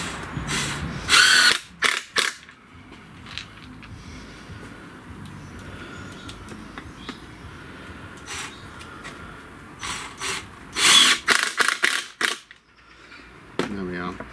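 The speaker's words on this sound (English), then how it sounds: "I'm going to put a couple of screws in just to pull that in nice and tight" Cordless drill driving screws into a wooden slat of a traditional bird table, several short whirring bursts with ratcheting clutch clicks, close and loud, separated by quieter stretches with some talk.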